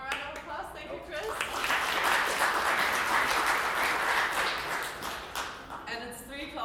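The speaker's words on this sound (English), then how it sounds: "one more round of applause" Conference audience at a UX event gives a presenter a round of applause, a full crowd clapping that swells and holds steady before tapering, with a voice speaking briefly near the start and end.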